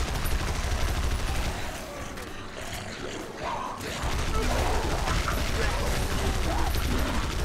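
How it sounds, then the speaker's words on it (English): Rapid bursts of video game gunfire crackle steadily over a dense, mechanical background, dropping briefly in the middle before resuming at full intensity, with faint voices mixed underneath. "firing the guns as well"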